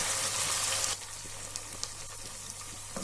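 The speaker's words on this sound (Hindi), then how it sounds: "इसमें लहसुन अदरक का पेस्ट ऐड कर देना है और इसको अच्छे से 2 से 3 मिनट के लिए आपने फ्राई कर लेना है" Onion with garlic and ginger paste frying in a pan, a steady close sizzle that drops to a softer, quieter crackle after the first second, with a few small pops and stirring clicks.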